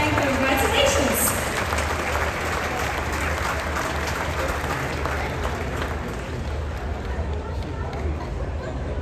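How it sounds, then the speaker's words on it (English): Audience applause for guests on stage at a top-tier Diamond Plus and Pinnacle event aboard the cruise ship Wonder of the Seas; dense, steady clapping from a large crowd with some background chatter, continuing throughout. "Give them a big round of applause."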